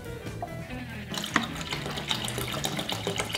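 Water from a bottle pours into a toy tank with a steady running, splashing sound, close and continuous throughout with a brief bright splash partway.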